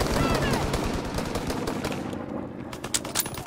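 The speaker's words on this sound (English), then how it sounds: "Enemy strafing run inbound." An enemy aircraft strafing run in the Call of Duty: WWII video game, heard as dense, loud, rapid machine-gun fire with rumbling impacts that thins out toward the end.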